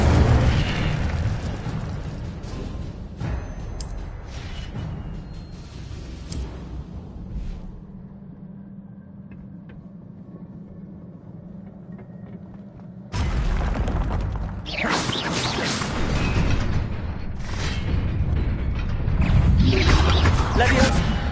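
In Hogwarts Legacy, a cast Incendio fire spell lets out loud whooshing, booming bursts. A quieter rumbling lull follows before another roaring blast, with a voice calling out over the action.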